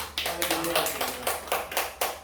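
Church congregation clapping for a deacon, a run of sharp, evenly spaced claps in a steady rhythm at moderate loudness, with faint voices murmuring underneath.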